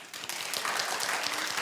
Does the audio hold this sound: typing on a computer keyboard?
no